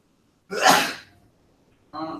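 A single loud, close sneeze bursts out after silence, followed moments later by someone starting to talk.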